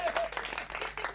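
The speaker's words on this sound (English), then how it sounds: "At least clap for me then." Brief audience clapping at a stand-up comedy show, a short burst of several claps mixed with crowd noise and voices, moderately loud and close.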